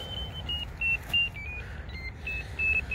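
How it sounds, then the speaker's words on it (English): An electronic ferret locator used while ferreting along a hedgerow gives a double beep again and again, a pattern of short, high tones heard close and clear over faint outdoor background noise. "You can hear it on locator. Double bleeper."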